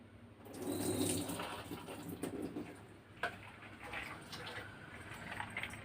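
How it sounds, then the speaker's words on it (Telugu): Water is drained off soaked chana dal (split Bengal gram) in a home kitchen: a steady, moderately quiet trickle and splash of pouring water that lasts a few seconds, with a soft patter near the end. "నీళ్ళు వంపేసాను."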